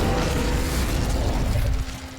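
A roaring, crackling burst of fire from the Incendio spell in Hogwarts Legacy, loud and sustained with a dense whoosh before fading off near the end.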